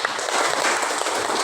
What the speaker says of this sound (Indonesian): Ya, aplaus kepada kelompok 2.